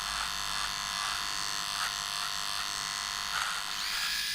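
A SOOCAS 4-in-1 cordless rechargeable electric shaver trims a beard with a continuous close-up buzz, its pitch shifting slightly as the head moves across the stubble.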